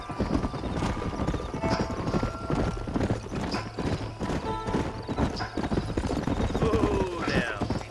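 Horse hooves clip-clopping on a canyon trail in the video game Red Dead Redemption, a steady walking rhythm close by with a neigh near the end and voices talking over it.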